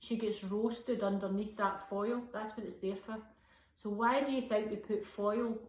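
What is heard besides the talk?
No distinct noise like a dog, phone or traffic.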